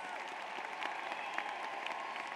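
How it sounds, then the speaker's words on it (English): A graduation audience at a Kean University commencement applauds, a dense, steady wash of many hands clapping at once that carries evenly from start to finish. "give your family, your loved ones, and your friends a thunderous round of applause"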